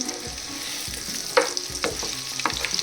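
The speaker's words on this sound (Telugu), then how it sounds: "ఒకసారి ఫ్రై చేసుకుందాము అటువైపు ఇటువైపు తిప్పుకుందామండి" Battered country-chicken eggs fry in a pan with a close, busy sizzle, broken by a few sharp scraping and stirring knocks.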